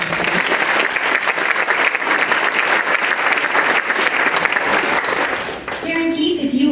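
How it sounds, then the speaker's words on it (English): Rotary Club luncheon audience giving a dense round of applause for newly inducted members, steady close clapping that fades near the end as a voice starts to speak. "Give them a round of applause."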